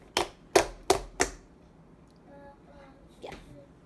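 Slime squished during a clicking test gives four sharp, close clicks in quick succession, followed by a quiet stretch with faint soft squelches.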